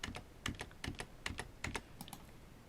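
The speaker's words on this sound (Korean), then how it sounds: "지금부터 하는 모든 키보드와 마우스 동작은 녹화됩니다" Rapid computer keyboard typing mixed with mouse clicks while recording a spreadsheet macro, close and crisp in quick uneven bursts of keystrokes with no talking.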